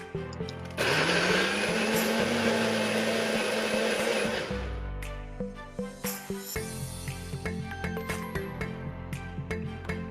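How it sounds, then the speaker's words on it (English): An electric blender whirs loudly for several seconds as it purees balado sauce ingredients, a steady high-pitched motor roar that winds down, followed by a run of quieter rhythmic clicks and knocks. "we're going to use the magic of a blender to blend and combine all the"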